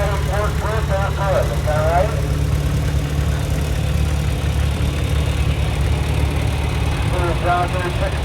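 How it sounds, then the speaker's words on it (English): A John Deere 620 tractor engine chugs steadily at low pitch at an outdoor tractor parade, while a voice speaks over a loudspeaker at the start and again near the end. "John Deere 620."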